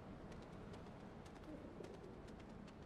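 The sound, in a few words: pigeon cooing in Spider-Man video game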